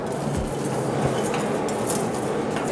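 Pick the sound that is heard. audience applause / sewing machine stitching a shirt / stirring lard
stirring lard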